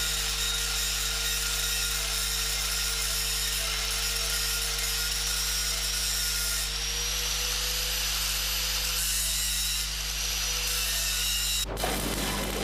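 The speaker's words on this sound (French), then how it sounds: "Meulage de la reprise au plafond." An angle grinder grinds the overhead section of a weld joining fixed horizontal steel pipes, giving a continuous loud, harsh whine and hiss close by that stops abruptly near the end.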